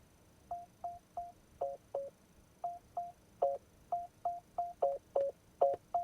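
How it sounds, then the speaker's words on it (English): Parking warning tones from a 2025 Mercedes E53 AMG hybrid sedan: a series of short electronic beeps, some single and some paired in quick double pulses, repeating at an irregular steady pace, clear and close in a quiet cabin. "Parking, you can set warning tones."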